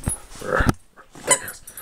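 A dog whimpers and gives a couple of short, close barks, sharp bursts separated by a brief quiet gap.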